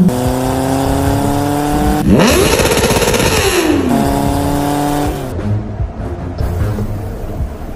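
A motorcycle, blue in colour, chases a car: a steady engine drone with a loud revving burst and falling pitch as it passes, then the engine carries on at a lower, rougher tone.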